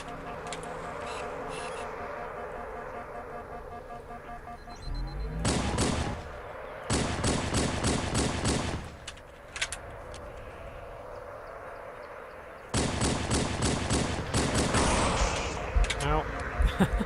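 A new-style pistol fires in Halo CE SPV3 in loud bursts of rapid shots, separated by quieter stretches of game noise, with a person talking now and then.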